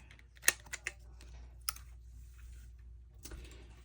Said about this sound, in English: I'm just going to round these corners right here.